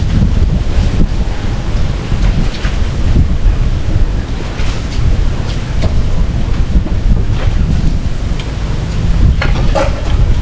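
Heavy rain and strong wind batter the surroundings on a rainy Saturday at home, a loud, steady broadband roar of gusts and downpour that fills the whole stretch with no voices.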